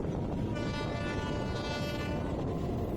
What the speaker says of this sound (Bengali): এই ট্রেনটাকে টেনে নিয়ে যাওয়া হচ্ছে সাঁতরাগাছি স্টেশন পর্যন্ত